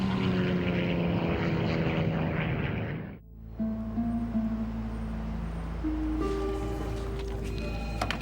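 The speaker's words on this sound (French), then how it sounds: "Les contrôleurs aériens regardent impuissants l'appareil qui tombe." A propeller airliner on Air Midwest Flight 5481 falls toward the ground, its loud, steady engine drone cutting out abruptly, then returning as strained, rising engine tones.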